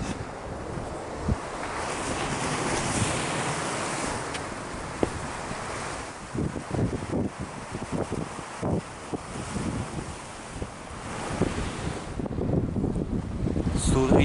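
Stormy Barents Sea surf crashes on the shore at Teriberka, a loud, rough roar of waves with strong wind buffeting the microphone in uneven gusts throughout.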